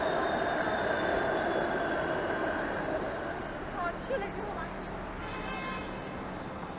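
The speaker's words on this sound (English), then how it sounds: "That's a 506 Carleton streetcar that's only going to Lansdowne." A 506 Carleton streetcar running along a Toronto street, a faint steady hum with a few brief squealing tones in the middle, heard from a little distance under city ambience and some talk.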